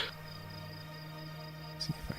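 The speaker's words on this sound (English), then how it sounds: "it's a very personal, nostalgic feeling for me of summer insect noises, of crickets and cicadas" Summer insect ambience of crickets and cicadas in a video game, a faint continuous high chirring hum held steady throughout, with a couple of soft bumps near the end.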